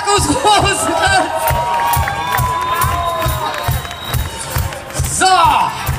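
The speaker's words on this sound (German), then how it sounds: "Applaus" Large outdoor crowd cheering, whooping and clapping at a Cologne carnival season opening on the Heumarkt, loud and sustained, with a steady thumping beat beneath and shouts and whistles rising and falling throughout.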